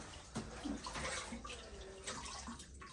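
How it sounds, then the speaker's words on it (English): Faint running water from a tap, a soft continuous splashing with a few small clinks, quiet and somewhat distant. "I hear water."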